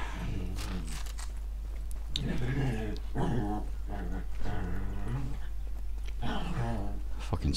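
A dog in the room growls and whimpers in low, drawn-out rumbles beneath someone talking while he plays Sniper Elite 4, the dog's noise steady and fairly close.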